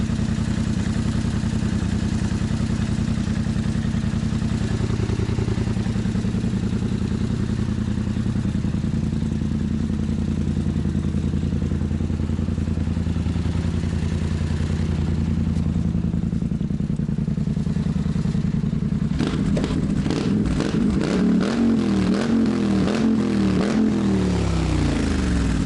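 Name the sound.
ATV engine with stainless exhaust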